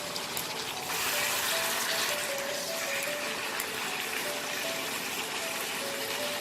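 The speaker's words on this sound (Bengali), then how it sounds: "এতে আমি জল দিয়ে দেবো।" Water poured into a pot of cooking methi chicken, a steady rushing hiss that runs evenly for several seconds at close range with no talk.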